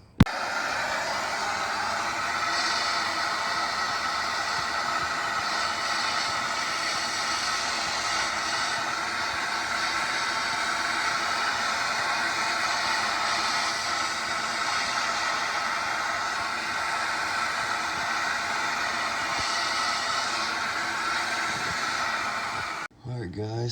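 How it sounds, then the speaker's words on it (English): A torch flame roars steadily against a stuck spare tire carrier on a 1993-1997 Ford Ranger, a loud, continuous hissing rush that holds nearly unbroken for over twenty seconds before cutting off abruptly. "heat this up with a torch, maybe give it a little bit more play"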